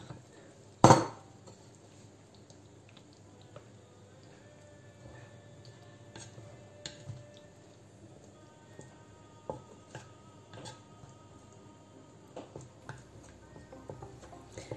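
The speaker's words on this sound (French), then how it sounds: "Et je vais verser les olives à l'intérieur." Olives tipped into a chicken tajine pot with preserved lemon: one sharp, loud clatter near the start, followed by scattered small clinks, taps and soft cooking sounds that fade to a quiet background.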